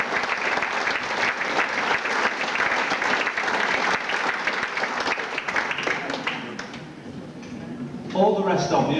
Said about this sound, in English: Ladies and gentlemen, give her a round of applause again.